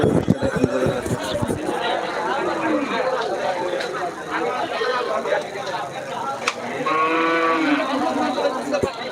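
Cattle moo at a crowded cattle market amid chattering people, with clattering knocks at the start and a clear close moo near the end.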